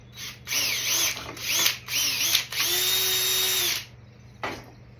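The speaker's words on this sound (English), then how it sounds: "I'm going to drill this back out." A power drill drilling into plastic whirs in several short bursts, then one longer sustained run, loud and close, with a brief final blip.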